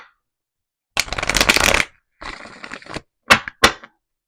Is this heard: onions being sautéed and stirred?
no